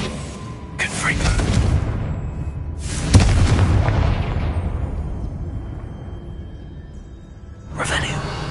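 A Confringo spell explosion in the video game Hogwarts Legacy, a loud booming blast that rolls and fades over several seconds, with another burst starting near the end.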